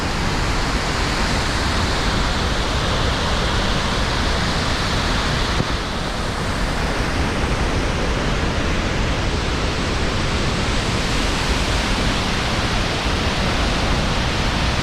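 Victoria Falls in Zimbabwe thunders as a dense, continuous roar of falling water, a broad steady rush that stays loud and unchanging from start to finish, with no voices over it.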